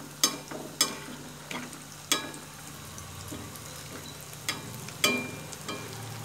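An egg chop fries in hot oil with a constant low sizzle, broken every second or so by sharp scrapes and taps as the hot oil is spooned over the top.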